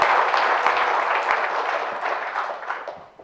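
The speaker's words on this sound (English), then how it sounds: "give them a round of applause" Conference crowd at OggCamp in Manchester applauds sponsors, a fairly loud burst of clapping that stays dense for a few seconds and then tapers off toward the end.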